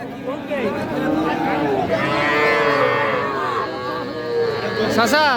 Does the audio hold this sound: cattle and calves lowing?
yes